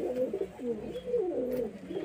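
Pigeons coo close by in a home loft, making soft, low, throaty rolling calls that run almost continuously, with no talking over them.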